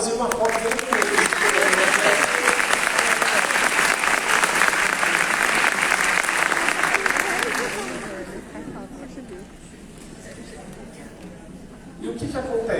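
Loud audience applause with cheering voices for about eight seconds, then it dies down into quieter crowd murmur before rising slightly again.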